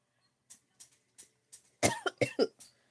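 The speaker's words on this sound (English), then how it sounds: "something I had went down my throat. It's making my throat dry and cough" A series of coughs from a dry throat after something went down it, several soft and spaced at first, then a cluster of louder, harsher coughs close to the microphone.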